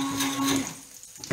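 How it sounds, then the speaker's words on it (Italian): An old kitchen blender whirs briefly while blending a cream, a steady motor drone that drops off toward the end, heard alone. "E continuiamo a frullare un pochino."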